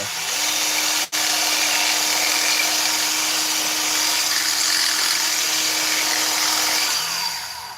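A steady high-pitched drill whine runs almost the whole time, close and loud, briefly cutting out near the start before winding down at the end.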